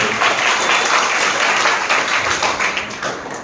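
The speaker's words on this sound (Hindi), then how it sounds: "प्लीज जोरदार ताली दोनों लीडर्स के लिए" Loud, dense audience applause for two leaders at a marketing seminar, sustained clapping from a large crowd filling the room throughout.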